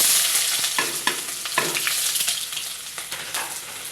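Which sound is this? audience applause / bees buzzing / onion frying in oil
onion frying in oil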